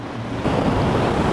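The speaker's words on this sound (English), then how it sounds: "so we got pretty small conditions, about 1 foot waves, 2 or 3 waves per set" Small one-foot ocean waves break on a beach in Tamarindo, Costa Rica, a close, full roar of surf washing in that swells and stays steady, with wind buffeting the microphone.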